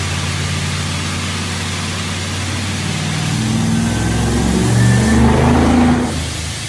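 A custom-built Dodge Challenger show car revs its engine close by, a steady low rumble swelling into a louder rising rev near the end before easing off, with no talk.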